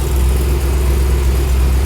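A car engine runs at a steady, loud idle after starting, a constant low rumble with no revving changes and no voices.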